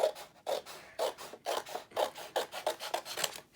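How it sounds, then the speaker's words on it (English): Paper for a gatefold mini album being cut, about a dozen short rasping strokes in a quick, fairly even rhythm, close and quiet. "now I'm just going to cut these on the side a little bit"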